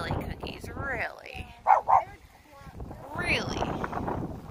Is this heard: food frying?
no